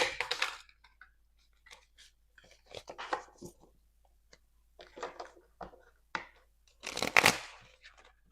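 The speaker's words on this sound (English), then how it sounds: "one more shuffle" Soft riffling and shuffling of tarot cards in several bursts, close by, with quiet rustling and light handling sounds in between.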